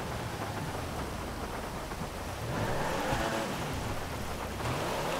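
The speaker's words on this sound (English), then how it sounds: "It's kind of rainy outside, so that's why I'm kind of losing track from inside." In-game rain in GTA 5 Online falls as a constant, even hiss of drops on surfaces outside, growing slightly louder partway through, with no voices.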